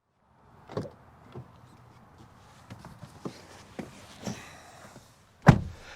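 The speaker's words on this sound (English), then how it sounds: "Just throw it in the cool box, shut the lid" A lid on a cool box in a 2024 Lexus GX550 closes with a firm thunk, followed by a few softer knocks and taps; the shutting thud is sharp, close and clear against a quiet cabin.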